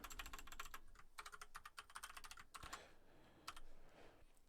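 Fingers type quickly on a desktop computer keyboard, with bursts of close clicking keystrokes, short pauses between them and a louder tap at the end.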